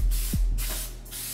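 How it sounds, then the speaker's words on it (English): Two short hissing bursts from an aerosol can of baking spray, spraying close up onto a pan, the second trailing off softly. "This is my baker's joy to spray my pan with."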